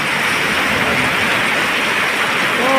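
Heavy rain pouring down steadily on a rural Thai home, a dense continuous hiss that stays loud and even throughout with no voices.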